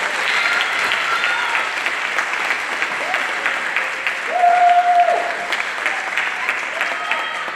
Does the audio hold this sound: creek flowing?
no